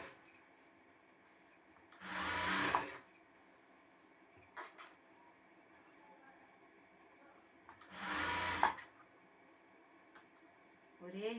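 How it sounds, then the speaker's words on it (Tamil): Short bursts of a sewing machine stitching the front piece of a blouse, two distinct runs of a few seconds each separated by quiet handling noises in a calm room. "ஃப்ரண்ட் பீஸ் நான் தச்சு காமிக்கிறேன் உங்களுக்கு"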